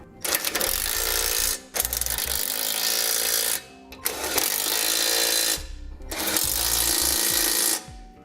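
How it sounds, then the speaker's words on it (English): A power impact tool with a 3/4 inch socket snugs down the hardware of a B and W Companion OEM 5th wheel hitch with slider, firing in four loud, rattling bursts about two seconds long with short pauses between them, close to the listener. "using a 3/4 inch socket, I'm going to snug it all up"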